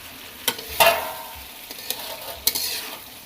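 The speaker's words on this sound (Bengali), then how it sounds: "আমরা এখন মাছগুলো দিয়ে হালকা নেড়ে দেব" Small fish being stirred into softened tomatoes and cauliflower in a pan, a light sizzle broken by several distinct utensil scrapes and knocks spaced irregularly, fairly close.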